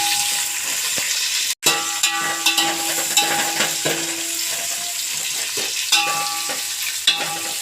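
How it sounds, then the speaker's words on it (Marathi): Onions fry for pulao in a pan with a loud, steady sizzle up close, marked by spoon scrapes and clinks and one brief dropout early on. "मग कांदा, आता त्याला मस्त भाजून घेऊया."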